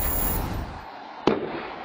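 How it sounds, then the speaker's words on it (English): A single distant explosion, caught by a surveillance camera, lands as one short, muffled boom after a quiet stretch of faint background noise. "You can't see the explosion, but you can hear it"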